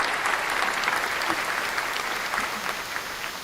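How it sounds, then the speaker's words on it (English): A crowd gives a round of applause, a dense, steady wash of clapping that keeps up at an even level throughout, close and full without letting up. "Let me hit y'all with the round of applause."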